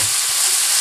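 Drained ground meat going back into a skillet on an electric stove at medium heat, a brief, loud, close burst of sizzling.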